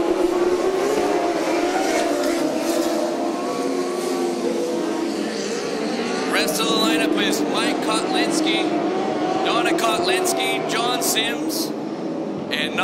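URA Limited midget cars and California Lightning sprint cars race around a track, with a continuous loud engine roar rising and falling as cars pass, while an announcer talks over the noise.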